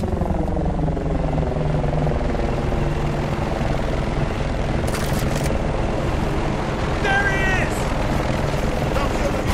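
A helicopter in Battlefield Bad Company 2 drones steadily with a loud, continuous rotor and engine roar, while gunfire-like bursts and voices cut through the mix.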